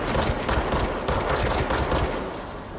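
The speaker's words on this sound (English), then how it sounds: "what happens if I start shooting at it?" Loud, continuous automatic gunfire in the game Control, a volley of rapid overlapping shots rattling close by for a few seconds with no talking.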